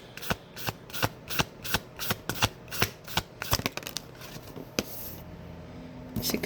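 Tarot cards riffle and snap in quick, steady bursts, a close and crisp shuffling repeated over and over, with no one talking.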